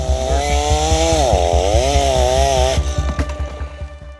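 Chainsaw cutting through timber on an old, overgrown gold rush trail, a loud, steady engine drone with pitch dipping and rising under load, then easing off into choppy idle pulses near the end.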